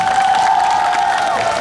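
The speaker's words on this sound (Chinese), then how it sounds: "是不是给我们湖口乡长热情的掌声一下？" An outdoor Mid-Autumn festival concert crowd in Hukou claps and cheers for the township head, a brief burst of dense applause mixed with shouts and a sustained whoop.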